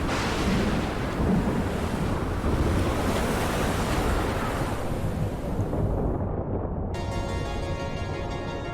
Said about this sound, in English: Already starting with some choppy waves here.